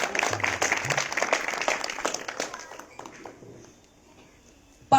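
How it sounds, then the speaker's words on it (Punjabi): Applause and clapping from a church congregation after a testimony, dense and lively at first, then thinning out and fading to near quiet by the end. "ਜ਼ੋਰਦਾਰ ਤਾੜੀਆਂ ਇਸ ਗਵਾਹੀ ਦੇ ਲਈ"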